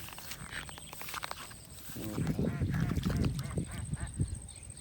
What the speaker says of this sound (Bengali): হাসি ডাকতেছে